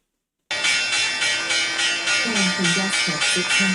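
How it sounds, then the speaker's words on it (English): The official New York Stock Exchange opening and closing bell rings loud and close in a rapid, sustained electric clanging that starts abruptly and keeps going without a pause. "This is the original New York Stock Exchange opening and closing bell."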